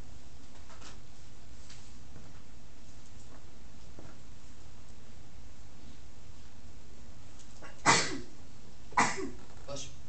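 A sneeze in a lecture room during a math class, two short sharp bursts a second apart near the end of an otherwise quiet stretch of room noise.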